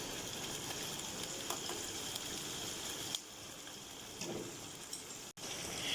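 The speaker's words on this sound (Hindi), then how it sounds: "मैंने इसको तेज़ आंच पर अच्छी तरह फ्राई कर लिया है गोश्त को भी इसके साथ।" Beef with garlic and ginger frying on high heat for Peshawari Shinwari karahi, a broad, fairly faint hiss of sizzling oil with a few soft clinks and a brief break near the end.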